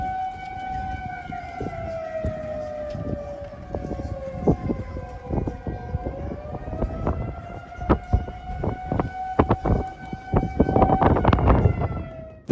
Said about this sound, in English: You will also likely hear a loud siren just before a storm approaches.